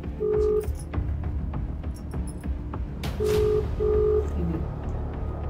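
A phone number is keyed on a telephone, producing a few short dial tones spaced out over background room noise, with faint clicks between them.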